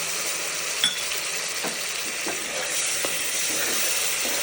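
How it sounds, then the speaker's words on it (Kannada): Yogurt and garam masala sizzle steadily in a hot pan, with a continuous frying hiss and a few soft clinks of a spoon stirring against the metal. "ಇದೊಂದು ಸ್ವಲ್ಪ ಮೊಸರು ಸ್ಮೆಲ್ ಹಸಿ ಸ್ಮೆಲ್ ಹೋಗೋತನ ಫ್ರೈ ಮಾಡೋಣ"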